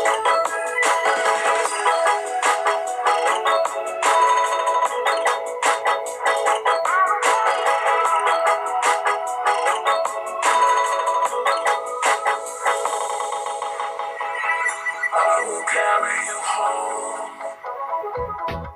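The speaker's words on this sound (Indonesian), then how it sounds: "Dan sampel dari speakernya adalah sebagai berikut ini." Music playback through the built-in loudspeaker of a Sony Xperia 1 smartphone, a steady full-band track with dense melodic and rhythmic content and thin bass, running continuously at even loudness for the whole stretch with no talking.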